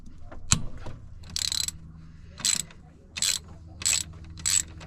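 A ratchet loosens a tight 14 mm bolt on the coolant system of a Nissan 300ZX twin turbo, with five short bursts of rapid clicking separated by pauses, close to the microphone.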